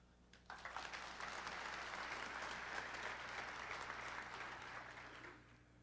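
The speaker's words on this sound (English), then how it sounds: "could I possibly get you to clap?" Conference audience at a 1995 Las Vegas general session breaking into applause, a sudden start swelling into steady dense clapping from a large room that slowly tapers off.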